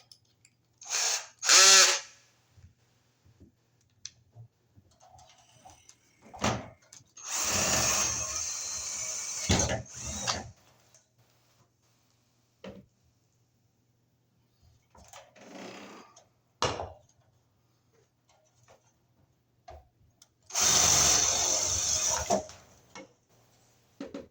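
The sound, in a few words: power drill drilling holes in fixture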